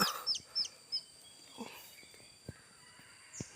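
A few quiet clucks from a rooster nearby, spaced out, with soft thumps and rustling in an otherwise quiet outdoor setting.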